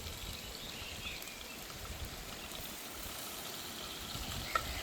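Mustard, fennel and fenugreek seeds fry in hot oil in a village kitchen, giving a steady, soft sizzle and faint crackle that carries on evenly throughout with one small pop near the end.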